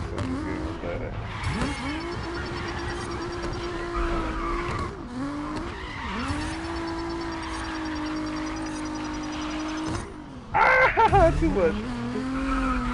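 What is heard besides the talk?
car drifting with tire squeal in Grid Legends video game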